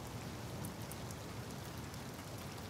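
Steady rain pours down evenly in the video game Detroit: Become Human, a dense continuous hiss with no other sounds standing out.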